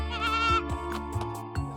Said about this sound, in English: we're at Renegade Ranch to see these fainting goats